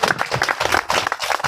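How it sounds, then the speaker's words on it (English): Crowd clapping at an outdoor protest against a global economic summit in Killarney, dense quick applause from many hands, close and lively throughout. "Everyone deserves a round of applause."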